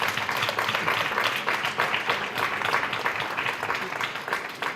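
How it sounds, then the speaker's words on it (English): Crowd applause welcoming sitar player Anoushka Shankar as a guest at an interaction event, a dense, sustained wash of many hands clapping that holds steady and fairly loud throughout. "Please give her a big round of applause."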